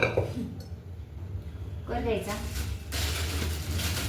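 Metal pots and a pressure cooker clatter and clink briefly in a home kitchen while pav bhaji is being prepared, with someone talking close by between the clanks.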